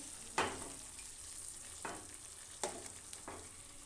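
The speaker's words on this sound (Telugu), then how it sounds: "నెక్స్ట్ వచ్చేసి బాయిల్ చేసిన ఎగ్స్ ముందే కాట్లు పెట్టేశాను ఇలా వేసి ఫ్రై చేసుకోవాలి" Halved boiled eggs fry in oil in a pan for an egg pulusu curry, giving a steady sizzle broken by a few sharp scrapes of a spoon turning them.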